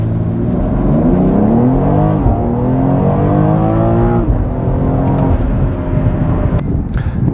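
A 2022 BMW X3 M in Sao Paulo Yellow, set to its sportiest modes, accelerates hard from inside the cabin, engine note climbing through gears with audible shift drops, loud and continuous with no talking.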